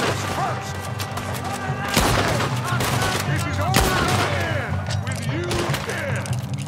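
Gunfire in Red Dead Redemption 2 at a compound shootout: several sharp shots, two standing out loudly, among scattered pops and clatter over a busy game soundscape, with someone talking through it.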